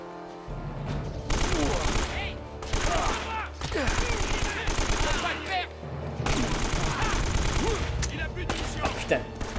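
Sustained gunfire in the video game Uncharted: Drake's Fortune, rapid bursts and volleys of shots nearly continuous for several seconds over busy game sound, with speech mixed in at times.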